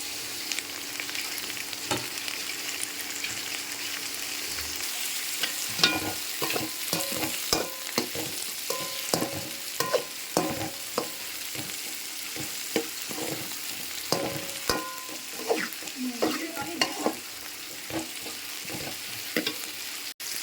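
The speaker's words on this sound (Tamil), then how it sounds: "தக்காளியோட ஜூஸ் வெளியே வர வரைக்கும் நம்ம இதை வதக்கணும்" Tomatoes sautéing in a kadai for a fish curry: a steady frying sizzle runs throughout, broken by frequent scraping and clinking stirs of a spatula against the pan, close and fairly loud with no talking.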